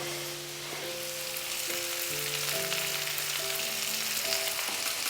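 Okra sizzles and fries steadily in a pan for an Indian okra curry, a continuous close crackle with faint stirring and no voices over it.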